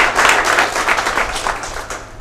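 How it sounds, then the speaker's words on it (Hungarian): An audience claps briefly but steadily at the handover ceremony for the renovated railway station in Karcag, Hungary, a short, fairly close round of applause. "Szerintem egy tapsot mindenképpen megérdemel."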